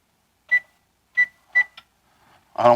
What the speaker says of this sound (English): Got the timer turned on.